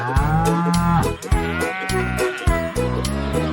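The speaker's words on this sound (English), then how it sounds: "Cow." A cow moos loudly and close over a steady rhythmic backing beat, with a drawn-out low call early on.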